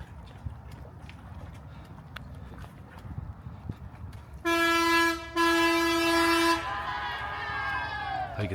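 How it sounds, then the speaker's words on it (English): A train passes on the railroad near Key West, sounding two long, loud, tonal horn blasts over steady outdoor rumble and wind, with the horn fading into a lingering rolling noise. "You can see another train coming up there."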